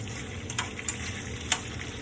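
Bacon fries in a pan for a homemade breakfast, a steady close sizzle with a few brief crackles and pops, no talk.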